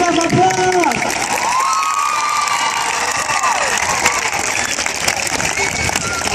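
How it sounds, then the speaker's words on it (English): A school campfire crowd applauds and cheers, continuous dense clapping with shouts and voices layered over it, loud and sustained throughout. "Let's give her a round of applause."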